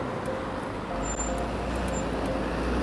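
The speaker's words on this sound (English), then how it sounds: "A lot of traffic going past, quite a lot of diesel vehicles" Steady road traffic circling a busy London roundabout, heavy with diesel vehicles including buses, forms a continuous broadband rumble with passing engines, a faint hiss of air brakes and no speech.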